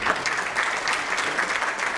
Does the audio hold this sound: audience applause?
yes